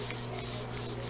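A folded paper crease is rubbed firmly while painting a monarch butterfly craft, giving a steady, close, dry scraping sound that continues without a break.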